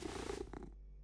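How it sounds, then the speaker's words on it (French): Close, low rumbling cat purr, rhythmic and soft, lasting about half a second before fading into quiet. "Oh, mais c'est le chat minou d'amour!"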